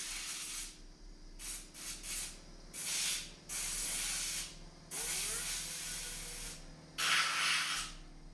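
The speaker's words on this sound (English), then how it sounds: "I'm going to go find the air hose, turn on the air compressor. We're going to blow this out real quick." An air compressor hose blows out a DeWalt orbital sander in loud, sharp bursts of hissing air, six or so blasts of varying length separated by short pauses over a low steady hum.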